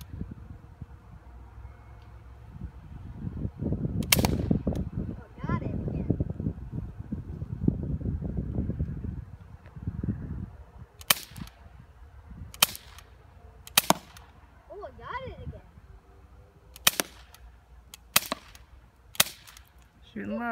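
Sharp, distinct shots from a Bear River BOA semi-automatic CO2-powered BB pistol, fired outdoors one at a time at irregular intervals. Wind rumble and handling noise run underneath the cracks.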